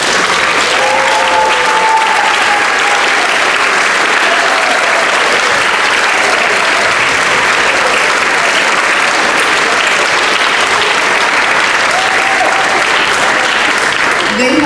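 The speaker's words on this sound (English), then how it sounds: "Let us give you a round of applause." Loud, sustained applause from a large audience at a middle school instrumental spring concert, dense clapping continuing steadily throughout without pause.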